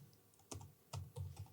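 Typing on a computer keyboard, three or four quiet key presses in an uneven rhythm, close and soft, with no talk.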